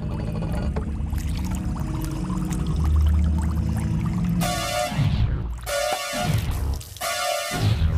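Liquid gushes and pours in a steady stream in a cartoon scene, embalming fluid running out continuously, then breaks into a few louder splashing bursts near the end, with no talking.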